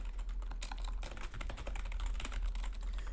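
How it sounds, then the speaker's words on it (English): Computer keyboard typing in a steady, dense run of close key clicks, continuous and fairly loud, with no voices. "the reason I'm typing sys.graphics.point"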